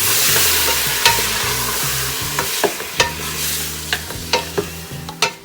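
Onions stirred in a frying pan with browned lamb for Saudi kabsa, a steady sizzle broken by a series of sharp spoon scrapes and clacks against the pan, close and alone.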